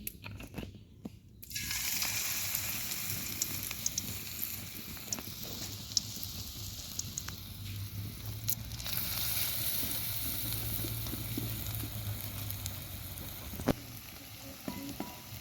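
Mustard flower fritters (shorisha fuler bora) frying in plenty of hot oil in a pan, a steady close sizzle with crackling pops that starts after a quiet moment and runs on without talk.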